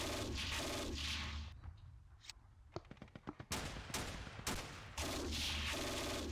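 Gunfire from the World War II strategy game Steel Panthers: sustained bursts of automatic fire open and close the stretch, with a quieter middle of scattered sharp single shots and short volleys.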